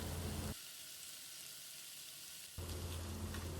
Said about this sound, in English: we'll let the prawns simmer in the lemon juice for just few seconds